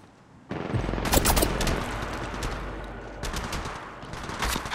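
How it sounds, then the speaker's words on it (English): Gunfire in Apex Legends erupts suddenly after a brief quiet lead-in. Sharp, loud cracks and automatic bursts cluster early, then return in fresh volleys toward the end. "Shots fired and they're hitting me."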